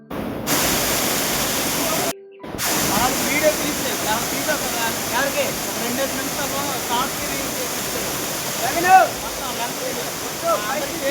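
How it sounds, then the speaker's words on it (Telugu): Water plunges down a remote waterfall near Kushaloya village in a steady, loud, broadband rush that drops out briefly near the start before resuming. "ఇక్కడ నుంచి పడిన వాటర్ చూడండి ఎలా సర్క్యూట్ అవుతుందో చూడండి ఒకసారి"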